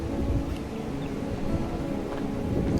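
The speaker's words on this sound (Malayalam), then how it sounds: "നല്ല കാറ്റ്." Strong wind in Thailand buffets the microphone in a continuous low rumble, steady and fairly loud, with no clear voices.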